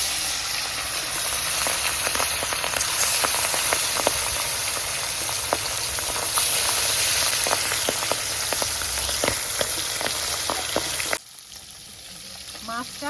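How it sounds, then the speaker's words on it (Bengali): Pabda fish fries in plenty of hot mustard oil with a loud, continuous sizzle and dense crackling pops that drop away suddenly near the end. "তেলটা গরম হয়ে গেছে মাছটা দিয়ে দিচ্ছি"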